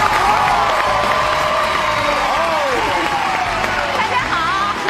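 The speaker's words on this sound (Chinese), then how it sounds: "掌声有请黄小娟老师。" A stage audience at a variety show applauds and cheers to welcome Huang Xiaojuan, producing steady, sustained clapping with whoops and cheers and music or voices ringing over it.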